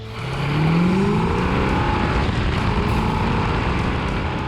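A classic 1970s-era V-code 446 car drives past with a steady, loud engine note that rises in pitch as it accelerates, carried alone without talk.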